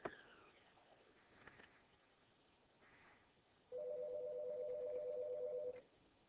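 A phone rings with a steady electronic tone held for about two seconds, loud and alone after a quiet stretch of room noise.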